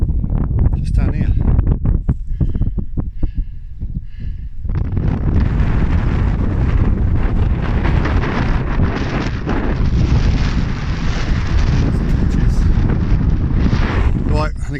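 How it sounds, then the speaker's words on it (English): Strong wind buffets the microphone on Chesil Beach, a loud continuous roar with gusty rustling that dominates throughout, after a few seconds of softer, choppier noise at the start. "Not sure if you can hear me with the wind"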